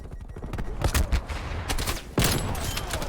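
Gunshots ring out in the shooter game Black Ops Cold War as a round is fired through a wall, several sharp close cracks in quick succession, with one final loud shot near the end.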